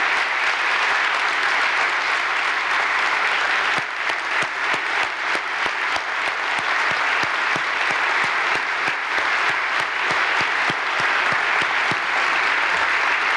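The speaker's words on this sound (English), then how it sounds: "Let's give them a round of applause for walking across the entire UP." Sustained audience applause fills a large hall during a 2018 Michigan State of the State address, loud and steady for over thirteen seconds with sharp individual claps standing out near the mic.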